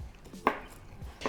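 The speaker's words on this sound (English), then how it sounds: "I'm cutting these sausages at a diagonal" A knife slicing sausages on the diagonal for an Instant Pot gumbo, giving two crisp, close chops on a cutting board about a second apart against a quiet background.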